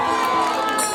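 An audience at a Bhojpuri stage show claps and cheers in one loud, continuous wash of crowd noise, with shouting voices mixed through it.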